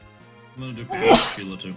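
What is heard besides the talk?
sneeze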